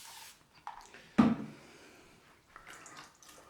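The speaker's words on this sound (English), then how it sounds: "just squeeze out the old brush" An old shaving brush is squeezed out by hand during a head shave, giving a brief wet squelch and faint trickle of water, with soft drips and small handling noises before and after.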